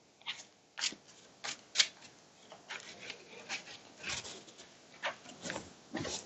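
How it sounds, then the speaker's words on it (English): Justice League trading cards shuffled by hand during a tabletop game, giving a series of soft, irregular riffling and rubbing bursts over several seconds, close up, with no talking. "So I'm going to give a quick shuffle."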